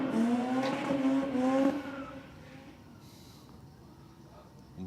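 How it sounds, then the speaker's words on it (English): Drag race cars doing burnouts at a drag strip give a loud harmonic engine roar that rises and then drops away into distant crowd and track ambience. "Both these guys putting in big burnouts."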